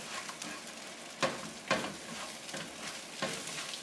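Eggs frying in a pan with leftover shrimp juice while making shrimp fried rice: a steady soft sizzle, with a few louder scraping stirs at intervals.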